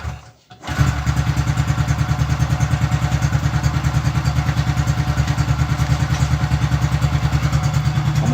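A Honda Biz C100 motorcycle engine starts after a brief silence and settles into a steady, close, loud idle with an even rapid putter and a slightly noisy exhaust, no voices over it.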